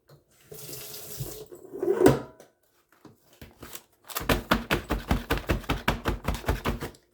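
Tap water poured onto potting soil to wet it for starting herbs, with a short rush of running water lasting about two seconds, then a pause and a quick run of sharp, even taps nearby.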